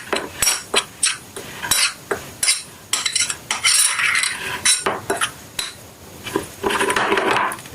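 A spoon mixes flour, cornflour, salt and black pepper in a bowl, with repeated close scraping and clinking strokes against the sides in an uneven rhythm, heard alone.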